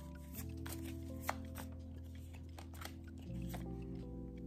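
Tarot cards shuffled and drawn close up in a quiet room, with soft riffling, sliding and a sharp snap as a card is pulled, over a low steady background hum.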